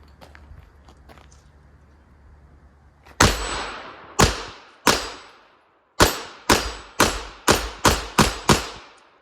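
Ten sharp gunshots from a PMR30 .22 Magnum pistol fired at a target outdoors: three spaced shots, then a quick rhythmic string of seven, each loud crack trailing off briefly.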